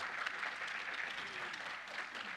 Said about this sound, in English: the lady who just introduced me, Chin, I would like you to give her a round of applause.